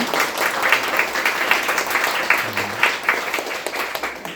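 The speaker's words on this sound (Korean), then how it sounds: "우리 박수로 격려해 주시기 바랍니다" Congregation applauding at a Sunday church service, a lively spread of many hands clapping with a brief voice heard faintly in the midst.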